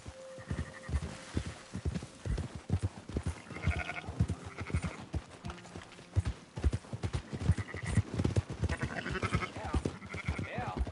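Sheep bleat repeatedly in a video game, several short nasal calls scattered over steady clip-clopping hooves, fairly close and moderately loud.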